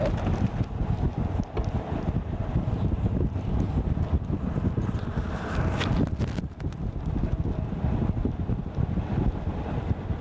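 Wind buffeting a microphone from an open vehicle driving on a Lowveld safari, a steady loud roar and rumble throughout with no speech.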